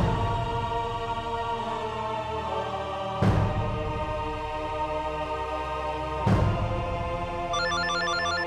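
A telephone rings in a steady repeating pattern, two sharp ring bursts standing out over a continuous tonal background of music, moderately loud.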